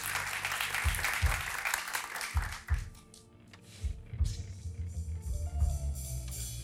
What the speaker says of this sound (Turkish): Bir şans alkışı alır mı?